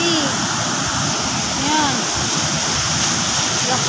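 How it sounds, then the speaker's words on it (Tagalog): Strong floodwater rushing through a street after a short heavy rain, a loud steady roar of churning water close by, with someone speaking briefly over it. "Oh, ang lakas ng tubig."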